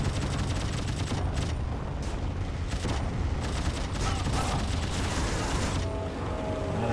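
Biplane machine guns firing in the World War I flight game Wings Remastered, bursts of rapid rattling shots over a droning engine and mechanical noise, fairly quiet and continuous for several seconds.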